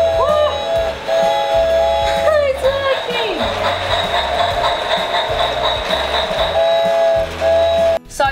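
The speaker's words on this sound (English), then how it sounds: "it's got this little train with a train track here. Let's turn it on, see if it actually works." A small battery-powered toy train running on its track in a Christmas house display, giving off a steady mechanical whir and rattle with whistle-like tones beneath an indoor voice.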